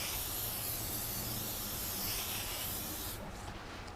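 Lubricant sprayed onto a Toyo R888R tire bead while mounting it on a Fikse FM10 three-piece wheel, one continuous close hiss that cuts off just before the end.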